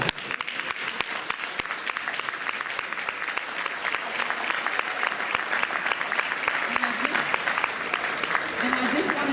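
Crowd applause for veterans at a parade, steady dense clapping sustained throughout, with some voices mixed in.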